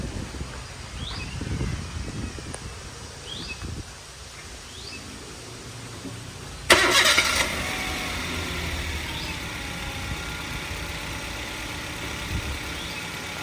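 A Toyota Veloz car engine idles steadily at close range with low rumbling, a sudden louder burst midway, then a continued hum with faint rustling.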